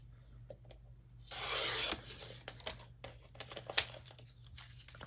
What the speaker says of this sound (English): I'm going to put my cutting blade back on and then cut this to be 1/2 inch by 7 inches.